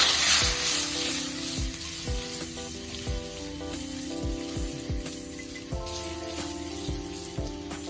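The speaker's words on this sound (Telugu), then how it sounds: "దీనిలో 1 చిటికెడు సాల్ట్, 1 చిటికెడు పసుపు పొడి, కొద్దిగా కారపొడి వేసి కొంచెం సేపు వేయించేసుకోవాలి" Eggs fry in a pan seasoned with salt, turmeric and chili powder, a continuous close sizzle with crackling pops, heard under a steady melodic music track.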